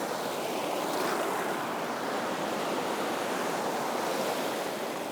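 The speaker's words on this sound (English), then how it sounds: "Okay, I'll just watch those waves." Ocean waves surge and break on a sandy beach during beach worming, a steady broadband wash of surf with wind rushing across the microphone, continuous and fairly loud with no voices.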